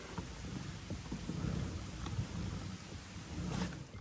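Steady rain falls over a lake with low rumbles of thunder rolling through, a continuous moderate wash of sound with no voices.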